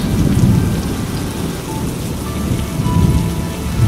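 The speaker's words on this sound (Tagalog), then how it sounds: "kumidlat, kumukulo, at lumalakas ang hangin, kasabay ang pagbuhos ng malakas na ulan" Thunderstorm with heavy rain and strong wind: a steady, loud roar of downpour with deep thunder rumbles swelling near the start and again toward the end.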